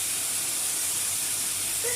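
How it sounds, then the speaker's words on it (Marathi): Potatoes frying gently in a pan over a low gas flame, a steady soft hiss and sizzle that holds evenly throughout with no voices. "आता बटाटे चांगल्या प्रकारे आपण याला परतू देऊ"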